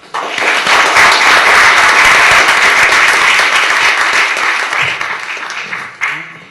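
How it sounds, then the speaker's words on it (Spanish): An audience at a cultural center lecture gives a strong round of applause for a professor, with dense, loud, steady clapping that fades toward the end. "pido como amigo del Centro Cultural un fuerte aplauso"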